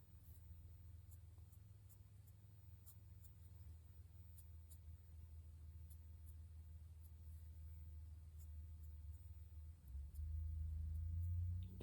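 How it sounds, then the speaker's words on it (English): A loud car passes outside at night, a low steady rumble that swells toward the end as it drives away, heard faintly from indoors under quiet room tone. "I hear a car. Very loud car. I'm sure it's driving away."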